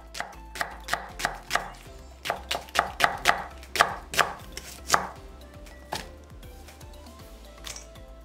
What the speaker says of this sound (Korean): 굵게 채 썰고 담아줍니다